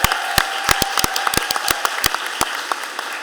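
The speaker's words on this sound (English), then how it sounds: "Can we have a round of applause for restorative justice?" An audience at a city budget hearing gives a round of applause, a brisk burst of scattered hand claps from a modest crowd, fairly close and without talk.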